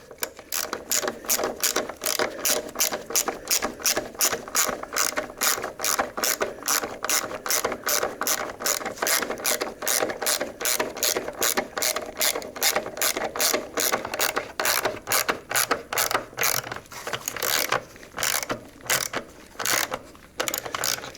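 An 8mm socket on a ratchet tightens the battery hold-down bracket on a Ford F150, giving a long run of rapid, loud, close clicking strokes that continues steadily for about twenty seconds without talk.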